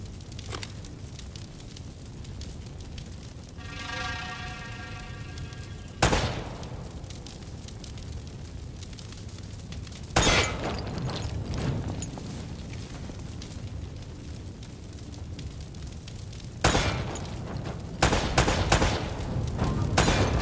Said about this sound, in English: Try shooting one of those lamps down.